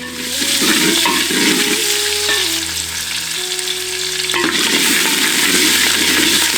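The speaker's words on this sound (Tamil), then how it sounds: "கருவேப்பிலையை சேர்த்து வெங்காயத்தை நல்லா வதக்கிடுவோம்" Onions and curry leaves sizzle and crackle steadily in a hot pan for sambar, with occasional stirring scrapes and a soft background hum.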